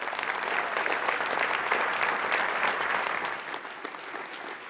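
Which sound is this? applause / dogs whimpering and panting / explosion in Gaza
applause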